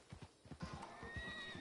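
Horses whinny and neigh in Red Dead Online on PS4, a few loud close calls layered over rhythmic clip-clop of hooves, with no talking.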